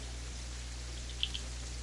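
Steady rain ambience from the video game Terraria, a soft continuous patter with a couple of faint droplet ticks over a low background hum, heard alone with no talking.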